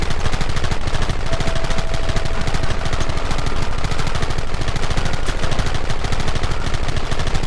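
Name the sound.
gunfire in a shootout, from the video game Red Dead Redemption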